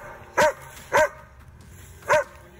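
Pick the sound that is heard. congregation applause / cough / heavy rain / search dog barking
search dog barking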